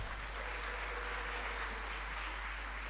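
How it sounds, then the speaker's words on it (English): Applause at an international graduate programs ceremony honoring a political science professor, a quiet, steady patter of many hands heard from a distance over a constant low hum. "A big clap of hands"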